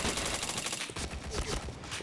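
Bursts of automatic gunfire in a shooter video game, fairly quiet and continuous, with faint voices mixed in.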